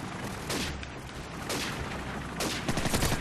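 Gunfire in Call of Duty 4 on the Backlot map during a free-for-all match: rapid bursts of shots rattle in three loud volleys, with no voices heard.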